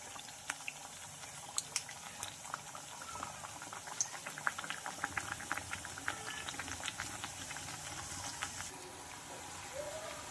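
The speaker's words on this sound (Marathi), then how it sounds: "मीडियम गॅसवरच याला फ्राय करून घ्यायचं आहे" Wheat flour and fenugreek mathri deep-fry in oil over a medium flame, giving a quiet, steady bubbling with scattered small pops and crackles. The sound carries through without pause and no one speaks.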